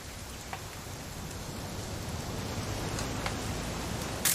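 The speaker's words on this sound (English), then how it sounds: "It's gonna rain the whole weekend," Steady rain falls in the video game What Remains of Edith Finch, a dense even hiss of drops with a few brief sharper splashes, heard alone without talk.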